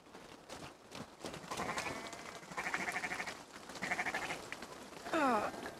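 Sheep bleat in the video game Assassin's Creed Valhalla, several wavering calls rising over a quiet outdoor background, with a louder, quavering bleat close by near the end.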